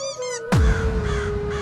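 A cartoon crow in a Hindi animated story lets out a single loud, harsh caw that cuts in suddenly over a faint melodic background tone.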